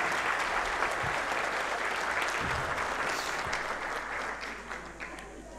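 Audience applause at the close of a Turkish folk music concert: dense, sustained clapping from a large crowd that holds steady, then begins to thin slightly toward the end.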